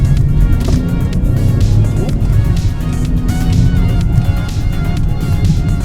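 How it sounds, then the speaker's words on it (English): A Ford Bronco Sport accelerates hard along a street, its engine roaring loud and close with a rising, rumbling pull, and a voice talks over it. "Alright, so we got the Bronco out on the street. Let's give it a nice little pull,"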